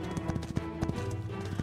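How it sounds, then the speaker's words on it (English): Horse in Totally Accurate Battle Simulator, with a quick run of hoof clops tapping in an uneven rhythm under a busy game soundscape, moderately faint. "Oh my goodness, there is a horse."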